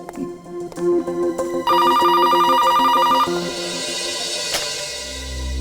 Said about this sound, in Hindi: सालुनके साहब का फोन था